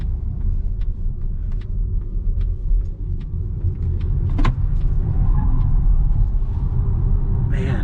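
Interior rumble of a 2021 Polestar 2 electric car being driven spiritedly, a steady low road and motor drone with faint clicks and rattles throughout.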